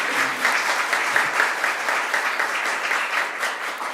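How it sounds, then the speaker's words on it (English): Applause from an audience at a New York governor's bill-signing event honoring legislators, a loud, dense, steady roll of clapping that holds evenly for the whole stretch. "Let's give them another round of applause."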